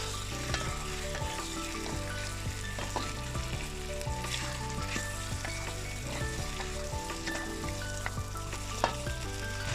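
Beef sizzles and crackles steadily in a hot pan, with a constant frying hiss and occasional clinks of stirring.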